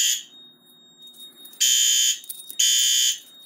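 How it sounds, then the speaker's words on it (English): A fire alarm panel sounds in loud, shrill electronic blasts, two long tones separated by a short pause, after a fainter opening beep. "We have a fire alarm."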